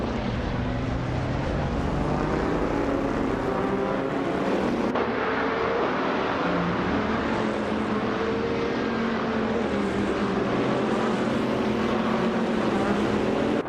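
Several LMP3 prototype race cars, including a 2010 Oreca FLM09, roar around a circuit in a racing video game, a steady dense wash of engine noise sustained throughout with no voices.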